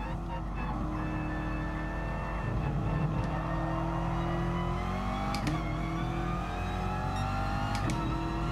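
A Chevrolet Corvette engine drones in Gran Turismo Sport, a steady loud hum with pitch rising and falling through gear changes, a few sharp shifts cutting the tone.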